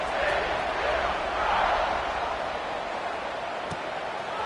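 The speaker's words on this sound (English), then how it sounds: "this crowd is buzzing after that last score" In a Madden college football video game, a stadium crowd roars after a score, a steady, dense wash of cheering and buzz that stays loud throughout, with no clear talking over it.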